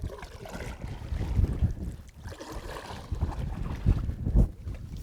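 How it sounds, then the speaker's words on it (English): Wind buffeting while paddling a boat on open water: steady rushing wind noise with low gusty rumble and occasional paddle knocks, fairly loud and continuous. "Especially when you throw a little wind in the mix."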